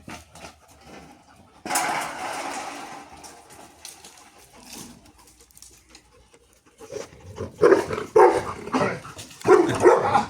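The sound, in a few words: dogs barking at their own reflection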